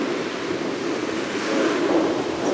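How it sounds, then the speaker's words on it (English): Surf washes steadily onto the main beach in Ponce, Puerto Rico, a continuous broadband rush with wind noise on the microphone, swelling slightly louder toward the end, with no voices. "Here at the main beach here in Ponce."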